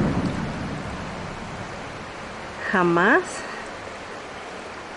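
Spring water welling up at the source of a stream, a steady rushing wash of flowing water throughout, with a brief spoken word over it midway.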